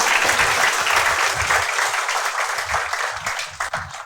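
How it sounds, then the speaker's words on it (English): An audience at a roundtable with UPSC toppers at Insights IAS breaks into loud, sustained applause, a dense wash of clapping that stays strong throughout and tapers slightly near the end, with no talk over it. "big round of applause for this."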